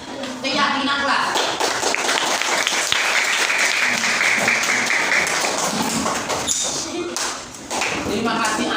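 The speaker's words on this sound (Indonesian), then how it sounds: "Tepuk tangan yang sudah unjuk keyakinan kelas" Steady clapping from a group of sixth-grade students fills the clip, dense and continuous, with voices mixed in beneath it.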